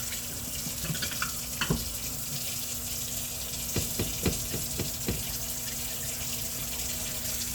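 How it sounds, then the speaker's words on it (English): Hot water running from a kitchen tap into a sink while baking pretzel dough, a steady close hiss of flow with a few clinks and knocks of items in the basin. "Turn on the hot water."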